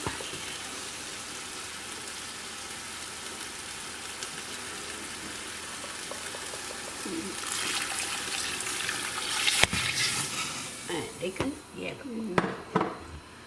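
Water splashes and sizzles into a hot pot of browning chicken after a stretch of steady frying hiss, followed by clinks of utensils against metal.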